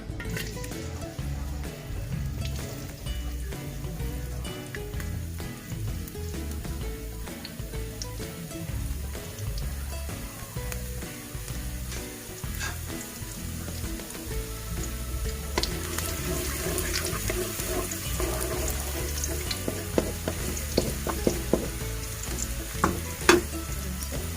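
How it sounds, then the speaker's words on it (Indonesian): Garlic sizzles steadily in a hot pan while stir-frying enoki mushrooms, with spatula scrapes and a brief splash of tap water near the end, close and continuous with no talk. "Sudah panas, kita masukkan bawang putih."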